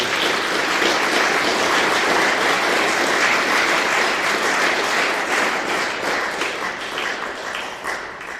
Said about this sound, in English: I think we need an applause for Maksym.